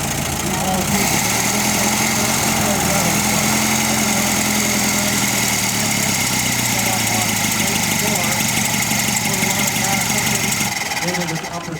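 A Ford Model T engine at an old car festival, running at a loud, steady idle with a dense mechanical chatter, close to the listener, and a person talking over it.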